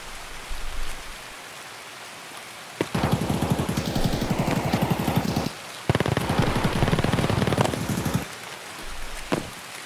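Rapid automatic gunfire in the Escape From Tarkov game crackles in two long, dense bursts, close and loud, each separated by a brief gap, with a short single shot near the end.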